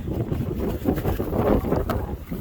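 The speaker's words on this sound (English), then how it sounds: "It's a windy day today." Gusty wind buffets the microphone in continuous low rumbling bursts, with no other clear sounds.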